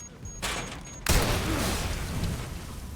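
Several gunshots ring out in a video game, a quick sharp blast followed by a loud, booming report that rolls on with a broad noisy tail.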